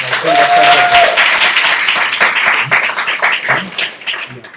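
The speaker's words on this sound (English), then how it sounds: "Please give them a round of applause." Audience applause for a sponsor at a Global Entrepreneurship Week event on the township economy, dense sustained clapping from a crowd, loud at first and easing slightly toward the end.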